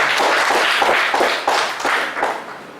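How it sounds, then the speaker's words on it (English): An audience claps together in loud, dense applause at the close of a session on amendments to the Companies Act and IBC. The clapping holds steady, then fades slightly toward the end. "Please give me a big round of applause."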